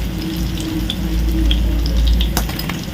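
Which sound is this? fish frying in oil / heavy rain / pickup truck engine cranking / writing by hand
fish frying in oil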